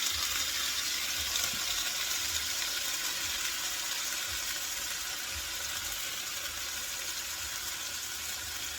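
Vegetables sautéing in a hot pan for teriyaki steak bites, giving a steady, close broadband sizzle that holds evenly throughout, with a few faint low knocks and no talking.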